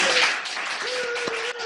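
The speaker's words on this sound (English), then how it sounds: "big round of applause" Applause for a guest speaker during a Professional Speakers Association Spain online call, a brief burst of clapping with a steady tone running underneath and no one speaking.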